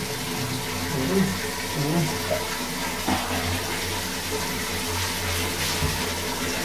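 Water splashes and runs steadily while a baby is rinsed during a bath, a continuous wash of flowing water with faint voices in the background.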